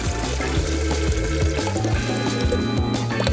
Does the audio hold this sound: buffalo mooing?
no